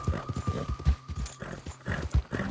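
A horse in Red Dead Online clip-clopping with brisk, rhythmic hoofbeats, close and clear, without speech.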